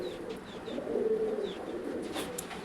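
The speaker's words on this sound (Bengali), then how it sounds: "দেখুন বন্ধুরা এখানেও আছে রেসার পায়রা আছে।" Racing pigeons coo softly at a pigeon farm, low throaty calls rising and falling, with a few brief chirps over a quiet background and no talking.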